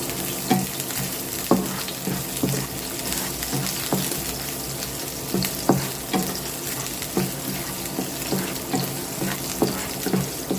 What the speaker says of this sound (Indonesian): Kalau sudah panas, masukkan bawang putihnya. Tumis hingga bawang putihnya harum sambil diaduk-aduk supaya tidak gosong.